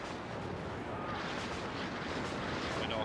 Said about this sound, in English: Big bombs are coming.